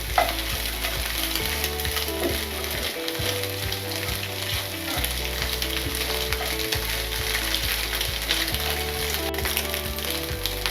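Eggs for chicken fried rice frying in a hot pan, a steady loud sizzle running throughout with stirring scrapes and faint background music, no voices.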